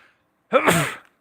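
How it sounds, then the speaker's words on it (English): A single sharp human sneeze during a live craps game stream, close and loud after a brief quiet breath, lasting about half a second. "A little sneeze attack there."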